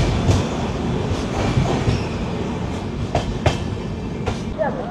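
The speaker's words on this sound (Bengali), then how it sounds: "উদুপিতে এসে দাঁড়ালো আমাদের ট্রেন।" The 12432 Rajdhani Express pulls into Udupi station, its wheels clattering over rail joints in a steady rumble with occasional sharp clicks and a faint squeal as it slows, heard from inside the train.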